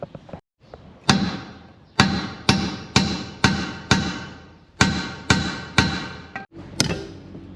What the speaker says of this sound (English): bottom bolts need to be hammered out now with a hammer and a punch.